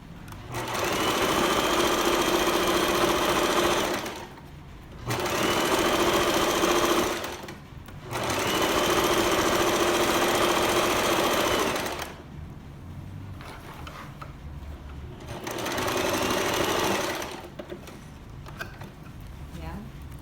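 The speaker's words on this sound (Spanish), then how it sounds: "Entonces lo voy a coser a medio centímetro." A sewing machine stitches a blouse seam half a centimetre from the edge. It runs loudly and steadily in four long bursts, with short stops between them.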